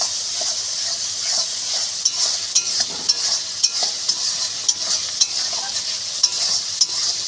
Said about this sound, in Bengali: এবার এর মধ্যে আদা বাটা এবং রসুন বাটা দিয়ে দেবো। এবার ভালো করে নাড়িয়ে নেব।